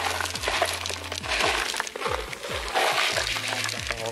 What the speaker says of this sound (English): A lot of slushy ice in here.